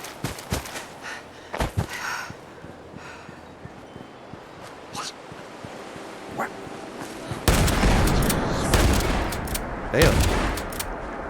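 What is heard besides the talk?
gunfire from the video game Fallout 76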